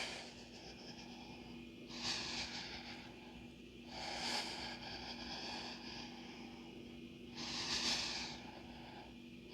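Deep, slow breaths during a morning yoga exercise: three long airy inhales and exhales, evenly spaced a couple of seconds apart, soft and close against a faint steady hum.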